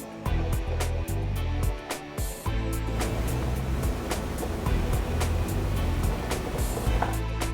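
Oil drains from a lawn mower engine during a spring tune-up, a continuous close splashing wash broken by occasional sharp clicks, with no talking.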